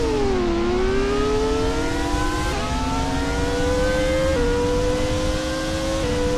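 Loud, continuous engine whine from a Formula car in the TORCS driving game, pitch dropping then climbing through several quick gear changes, with no talking over it.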